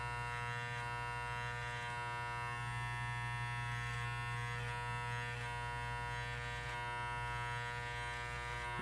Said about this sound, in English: You want to use the T-trimmer ends only.